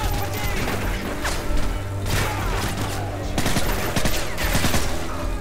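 Loud, rapid bursts of gunfire in Call of Duty MW3 as civilians are shot, repeated automatic volleys and sharp cracks mixed with mechanical clatter and some speech.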